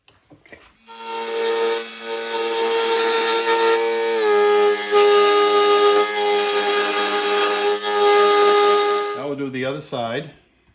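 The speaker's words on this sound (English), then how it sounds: "I'm just going to mill down the flat where the bolt goes into it to get rid of some more material" A milling machine cuts a flat on a metal part for a model engine generator, a loud steady whining tone with strong harmonics lasting several seconds, briefly dipping in pitch, then winding down at the end.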